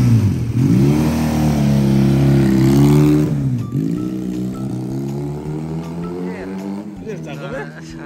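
A heavy motorcycle engine revs loud and close, rising and falling in a deep throaty roar before settling into a rougher idle.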